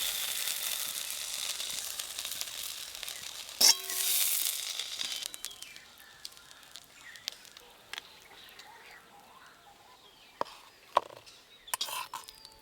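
A thick pointed-gourd mash cooks down in a pan with a soft continuous sizzle, then scattered irregular pops and clinks of the spoon as it thickens, fairly quiet and close.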